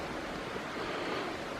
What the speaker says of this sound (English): Nice creek running through it.